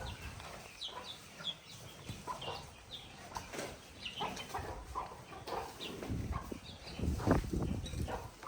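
Roosters and chickens on a farm that also keeps horses, clucking and crowing in a busy overlapping chorus of short calls, moderately close, with some wing flapping and no talk.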